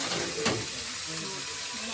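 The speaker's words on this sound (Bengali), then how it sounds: "এই যে সিম আলু বসাচ্ছি, 5 ফোড়ন দিই" Steady hiss of broad beans and potatoes frying in hot oil with a five-spice (panch phoron) tempering, continuous and close, with one sharp clatter early on.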